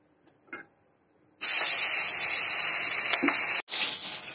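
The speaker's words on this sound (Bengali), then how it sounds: "মাছটা ভেজে নিই" Pangas fish sliding into hot oil: near silence, then a sudden loud, steady sizzling hiss that runs for about two seconds, breaks off sharply for a moment, and resumes.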